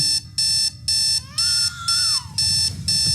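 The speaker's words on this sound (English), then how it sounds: "Why is your alarm going off?" Alarm clock ringing in a steady pattern of loud, repeated electronic beeping bursts, about six pulses with short gaps between, alone with no talk.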